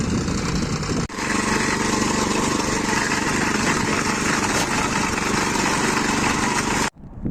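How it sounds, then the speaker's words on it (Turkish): A two-wheel walking tractor (patpat) engine idles on a cold day in Osmaniye while warming up, a loud, steady, rattling drone that holds constant apart from brief dropouts at the start and end. "şu an pat patı çalıştırdım. Malum havalar soğuk. Ee, motoru biraz ısınsın."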